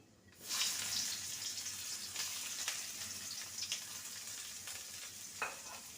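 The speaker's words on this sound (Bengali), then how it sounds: "পেঁয়াজটাকে ভেজে নেব" Chopped onion fries in oil after a black cumin tempering for a cauliflower-leaf bharta. After a brief quiet start, a steady close sizzle sets in, with occasional stirring scrapes, and nobody speaks.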